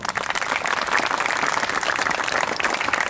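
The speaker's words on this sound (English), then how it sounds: "have a round of applause for yourself" Audience applause at a Republic Day school celebration, steady dense clapping from a crowd filling the whole stretch without a break, with no talking.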